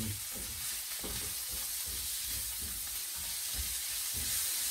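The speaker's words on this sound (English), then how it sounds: "add a good teaspoon of butter, good wedge, and we'll stir that in" A wedge of butter melting and being stirred into a hot pan, a continuous soft sizzle and hiss under slow, repeated scraping strokes, close and fairly quiet.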